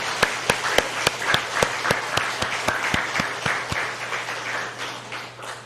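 A church congregation at a Sunday evening service claps together in a steady, evenly paced rhythm, sharp hand claps ringing out in unison over a diffuse wash of applause for several seconds before the beat fades into scattered clapping.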